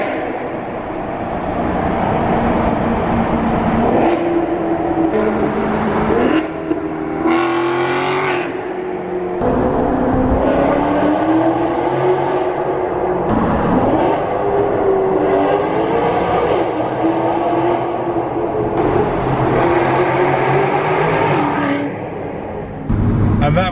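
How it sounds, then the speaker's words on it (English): A V8 Maserati MC Sport fitted with Larini resonator deletes, driven through a tunnel, its engine roaring loud and close with rising and falling revs, sharp throttle blips and echoing exhaust note throughout. "what Larini Resonator Deletes does to a Maserati MC Sport. That sounded absolutely incredible."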